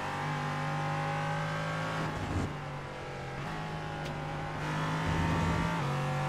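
A race car in the iRacing video game at Laguna Seca drives at high speed, its engine a loud, steady whine that dips and shifts pitch with downshifts and corners.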